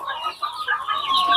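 Farm chickens clucking in a poultry shed, a steady run of close, overlapping clucks with no talk.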